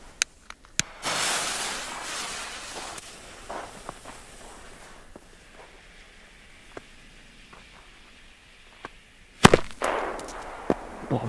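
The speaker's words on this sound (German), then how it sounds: "So, weiter geht's jetzt hier mit den Dynamitböllern. Das sind Super Böller 1 von Pyroart." Pyroart Super Böller 1 dynamite-style firecrackers fizz and hiss as their long fuses burn outdoors, with sharp cracks scattered throughout and a loud bang near the end followed by crackling.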